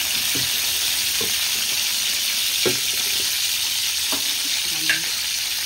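Mustard seeds and cumin sizzle in hot oil for vada pav, a steady broadband frying hiss with a few faint pops and spoon stirs scattered throughout, close and continuous without speech.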